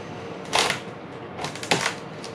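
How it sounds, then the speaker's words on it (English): A plastic trim tool pries up the fender of a wide-body Subaru Forester Turbo after its bolts are removed, giving two short, close scraping, crackling bursts separated by a quiet pause. "I'm just gonna try to pry this up with a trim tool."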